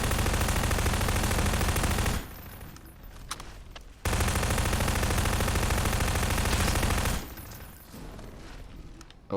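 An SMG fires in Garry's Mod with a Fallout 4 Deathclaw mod, two long, loud, continuous bursts of rapid automatic fire separated by a short lull of quieter noise.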